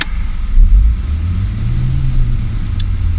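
A Ford Focus engine revs while the car sits stuck in flood water: a loud, deep rumble that swells briefly early on, then settles into a sustained drone with no talking.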